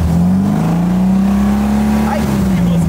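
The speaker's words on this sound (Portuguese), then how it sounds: "o meu carro liga de primeira" An old buggy car's engine fires up on the first try and revs, a loud steady low drone that swells and holds with a brief rise near the end, with a voice talking over it.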